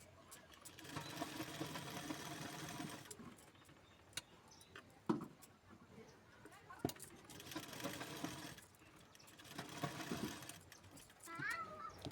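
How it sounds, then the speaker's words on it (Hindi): A sewing machine runs in steady bursts while stitching the lining onto a blouse, whirring close by with brief stops between runs. "ये मैंने तीनों साइड में सिलाई लगा करके अस्तर को अटैच कर लिया है"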